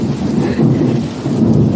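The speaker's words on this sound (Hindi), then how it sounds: "गाइस आप देख सकते हैं कितनी तेज बारिश हो रही है।" Heavy rain pours down at night in a loud, dense, continuous wash with low rumbling weight, steady throughout and without voices.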